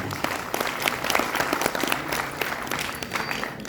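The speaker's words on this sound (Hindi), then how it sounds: "मैं चाहूँगा वो जोरदार तालियां श्री भूपराम जी" Audience at a retirement ceremony at IVRI Bareilly applauds steadily, a dense, even wash of many hands clapping close by with no talk, holding the same level throughout.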